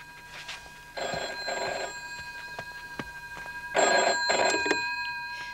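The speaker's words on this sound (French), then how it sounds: "Va répondre au téléphone." An old-style telephone bell rings close by in a quiet room, two bursts of double rings separated by a pause, the second burst louder.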